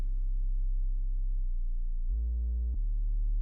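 A steady, pure sub bass tone holds a low pitch, then glides upward and sustains at a higher note with a small click near the end, loud and alone without voices.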